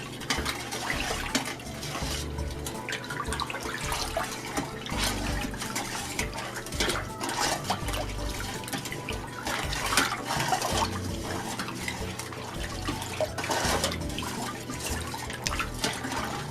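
A homemade ginger drink is stirred, making a steady, continuous swishing and liquid sloshing sound close by, with faint dripping and clinking throughout.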